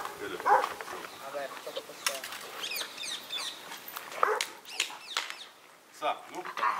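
A dog barks a few times in an outdoor yard with birds chirping nearby, while people talk over it in Hebrew at moderate distance.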